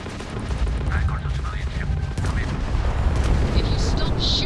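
Spaceship weapons fire in Starfield during a space battle, with steady rumbling blasts and impacts forming a loud, continuous barrage and a few brighter zaps near the end.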